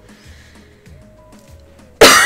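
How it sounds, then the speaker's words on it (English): After a quiet stretch of faint background sounds, a single loud, harsh cough bursts out close by at the very end. "Now I'm going to start coughing."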